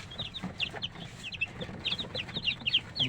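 Brooding hens, one just finished hatching and sitting on eggs not her own, cluck softly and steadily in short, close, quiet calls with no voices.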